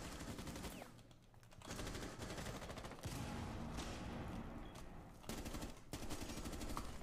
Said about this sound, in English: I don't know where I'm being shot at from